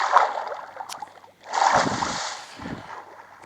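Water rushing and splashing as a boat moves along at sea in a video game, in two swells with a brief lull between them.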